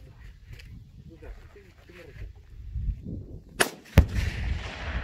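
Video game gunfire aimed at a hill, with two sharp close shots near the end following a stretch of muffled game noise and background sounds.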